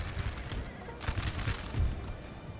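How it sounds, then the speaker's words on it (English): Musket volley from an infantry square in Napoleon: Total War, heard as a faint, distant crackling burst of massed shots over a low rumbling battlefield din. "I want the square to open fire to break these guys properly."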